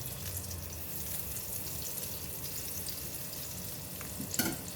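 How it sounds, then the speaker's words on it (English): Butter melting in a heated pan and being worked with a spatula gives a steady, close sizzle throughout, with a brief louder scrape of the spatula near the end. "Heat the pan, add in all butter. Use a spatula to melt butter."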